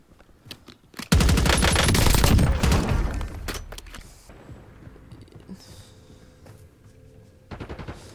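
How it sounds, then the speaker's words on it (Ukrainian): In the video game Warzone, a loud burst of rapid automatic gunfire rattles for a few seconds, then fades into scattered distant shots and mechanical clicks before another short burst. "щось вони там стріляють, стріляють"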